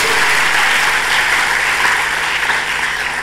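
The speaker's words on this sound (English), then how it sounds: "Can I have another round of applause" Sustained audience applause fills a closing ceremony hall at Vigyan Bhawan, a dense, steady wash of many hands clapping at even loudness for the full few seconds, with no voices on top.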